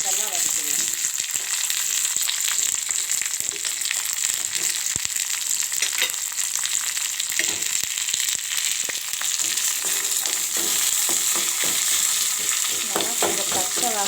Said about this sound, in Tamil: முதல்ல இதெல்லாம் வதக்கிடுவேன்.